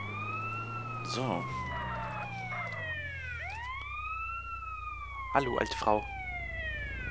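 Wailing ambulance siren in GTA San Andreas, its rising and falling tones sweeping steadily throughout with a brief dip midway, while someone talks over it in short bursts.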